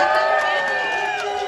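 Loud crowd cheering and whooping with clapping for drummers being introduced on a cruise concert event, a dense roar of voices and calls throughout, close and sustained.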